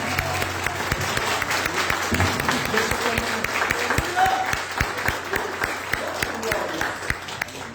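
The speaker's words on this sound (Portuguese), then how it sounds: "Vamos aplaudir o Senhor mais forte?" A church congregation at a family worship service claps steadily and vigorously, dense rhythmic clapping filling the room while a voice speaks over it.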